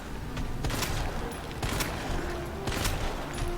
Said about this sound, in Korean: 쏴, 쏴, 쏴, 일단 그냥 쏴.